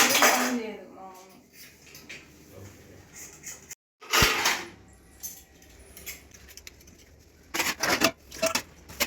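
Dishes and pans clatter in a sink piled full, with clinks of cutlery and metal pots knocking in irregular bursts, a brief pause partway, then renewed clanking close by.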